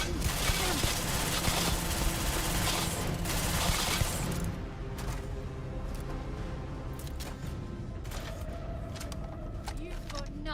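Sustained rapid gunfire in the space game Starfield, a dense, loud fusillade of shots that thins into scattered bursts and single cracks, with voices talking over the fight.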